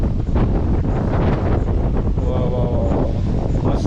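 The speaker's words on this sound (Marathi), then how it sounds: "वारं तर इकडे प्रचंड आहे." Strong sea wind at Korlai Fort, roaring and buffeting hard against the microphone in loud, continuous gusts that bury everything else, with a faint voice barely present underneath.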